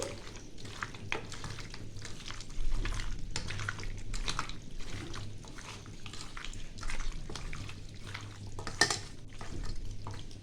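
Chicken is hand-mixed in a marinade of chilli and white oil, giving wet squelching and stirring sounds in irregular bursts, close and moderately loud, with no talking.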